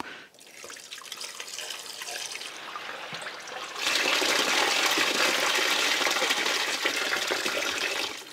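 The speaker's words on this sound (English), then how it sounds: "then we'll start testing the flow through the radiator" Water poured through a funnel and rushing through the radiator of a classic car's cooling system, starting as a low trickle and then surging into a loud, steady gushing flow nearby, with no talking.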